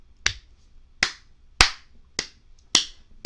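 Five sharp hand claps ring out one at a time at a slow, deliberate pace, each a crisp broadband smack with a short decay, close and loud with no talking.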